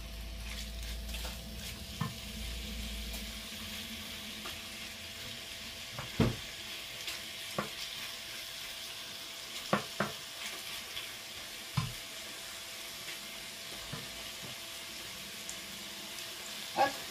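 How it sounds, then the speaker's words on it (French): Meat browning in a hot pan, a soft continuous sizzle under scattered stirring clicks and scrapes, fairly quiet and close. "on fait revenir la viande"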